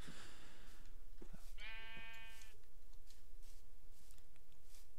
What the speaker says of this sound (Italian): qui c'è anche una pecora ciao pecora